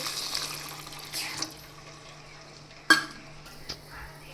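Water is poured into a pan of roasted semolina, giving a soft hissing bubble that fades, with a sharp clink near the middle and a low steady hum underneath.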